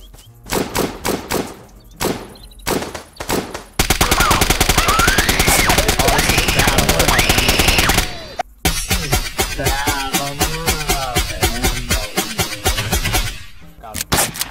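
Rapid automatic gunfire from a military airfield battle in Apocalypse Rising 2, loud and dense bursts with sharp single shots around them, players' voices talking over the fighting.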